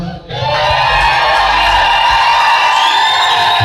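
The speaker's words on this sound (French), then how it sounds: "Quelqu'un peut pousser des cris de joie?" A church congregation at a live worship concert shouts and cheers for joy, a loud sustained roar of many voices that swells in after a brief hush and holds steady.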